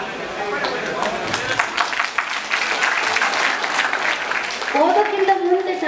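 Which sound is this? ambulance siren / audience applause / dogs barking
audience applause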